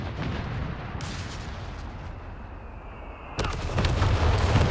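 Artillery Officer shells and a mortar barrage landing in Company of Heroes 3, rumbling booms and blasts arriving in bursts, with a sharp impact near one second and a heavier volley toward the end.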